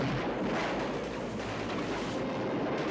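Cartoon battle explosions as tanks are blown up, a dense, continuous rumble of blasts and pops filling the whole stretch, with no distinct gaps and no talking.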